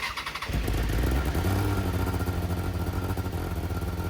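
A race car engine, left sitting for six months, catches and starts up after a brief crank, then settles into a loud, rough, steady idle close by.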